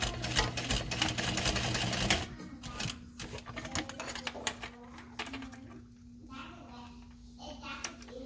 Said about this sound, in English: We're going to sew all the way across and back.